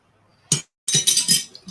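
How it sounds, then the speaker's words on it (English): Metal tuning forks struck in turn, each giving a bright ringing tone, two separate strikes with the second ringing longer and decaying, heard alone without speech. "So these are basically the same tuning forks, the same tones that I played with the chimes earlier."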